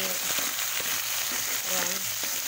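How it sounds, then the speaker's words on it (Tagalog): Live crabs cooking in a pan without broth, a continuous moderate sizzle with scattered clicks and scrapes, with a brief voice faintly in the background. "Maluto ko na yung crab ni Ami."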